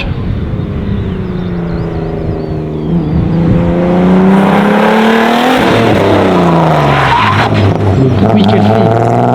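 A Volkswagen Golf 7R engine revs loud and close with rising, falling pitch sweeps, joined by tire skid and squeal as the car slides, continuous and aggressive throughout.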